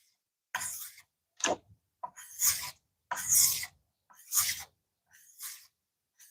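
A knife is drawn across a 400 grit Amazon Basics whetstone in about seven separate rasping strokes, each a short gritty scrape with a brief pause between, close and fairly quiet.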